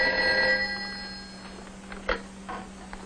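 A telephone rings with a single bright bell tone that fades out, followed by quiet room sound and a few faint clicks, with no talk.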